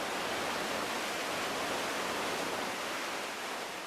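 A waterfall plunging 120 feet pours with a constant broad rushing roar. It sounds dense and unbroken, heard from a distance, with no voices.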